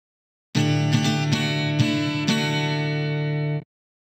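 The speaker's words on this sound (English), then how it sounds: "You found the guitar." Guitar from the Lamb Chop Loves Music PC game, a few quick strummed chords ringing out as one bright sustained phrase for about three seconds, alone.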